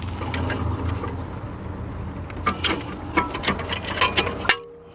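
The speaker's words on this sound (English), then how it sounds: "we'll take this caliper and then we will push the caliper in so we can have it flat here" Brake caliper piston on a 2013 Mercedes-Benz E350 pushed back in with a tool, giving a run of close, sharp mechanical clicks and creaks that quicken and then stop abruptly.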